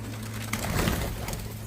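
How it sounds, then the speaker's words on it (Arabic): A pigeon coos softly over a steady low hum on a rooftop, with a brief rustle partway through. "حمام خافت اللي على السطح طاروا."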